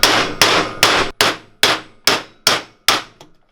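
A 19mm socket is hammered against a swing arm bearing sleeve on a CR80, eight loud metallic strikes in an even rhythm, each ringing out briefly before the next, close up with no talk.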